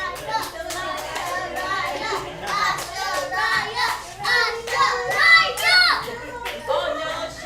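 Children cheer and clap for a girl, with excited young voices and scattered hand claps rising and falling in a lively burst of encouragement, close and fairly loud.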